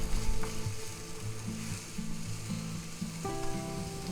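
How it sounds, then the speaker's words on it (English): Mildly hot green peppers sizzle in a frying pan as they are stirred, a steady broadband crackle with faint scraping, holding evenly with no talk. "Stir that in a little bit."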